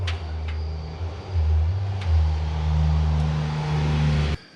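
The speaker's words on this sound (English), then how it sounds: "I don't know what is driving by, but it sounds terrible" A vehicle in rough condition rumbles past outdoors with a loud, low, uneven engine drone. It rises as it nears, holds for a few seconds, then cuts off abruptly, with no talking over it.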